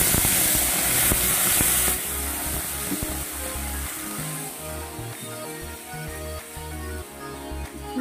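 Ground spice paste hits hot oil in a frying pan over fried cumin seeds, giving a close, steady sizzle and hiss with some clatter of utensils, louder in the first two seconds and then settling.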